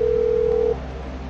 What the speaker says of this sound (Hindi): अब मेरा फोन निकालते हैं और करते हैं डिनोट।